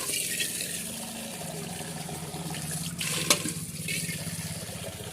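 Water running from a pipe or hose while a dog's feet are washed in a garden, a steady splashing flow that continues throughout, close by, with a brief sharper splash midway.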